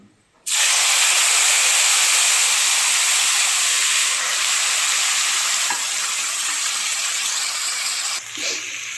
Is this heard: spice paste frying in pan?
yes